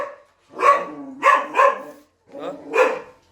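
A pet dog that was guarding a house against an intruding cobra barks loudly and close by, four or five sharp, evenly spaced barks with short pauses between them.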